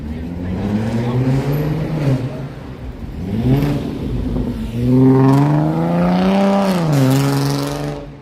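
A loud car revving with no muffler on a Chicago street, a rough engine rising and falling in pitch through several throttle blips, with a voice talking over it.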